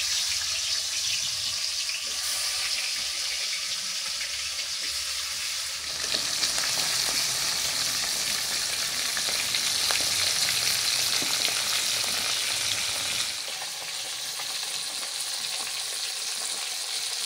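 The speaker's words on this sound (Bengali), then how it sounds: "এবার মাছগুলো ভেজে নেব।" Fish rubbed with salt and turmeric fries in hot mustard oil in a kadai, a steady close sizzle with occasional spatter and a louder burst midway, no talk.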